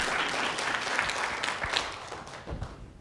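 Audience applause at an arts summit plenary session, a brief burst of clapping that fades gradually over a few seconds, moderately distant in a large room.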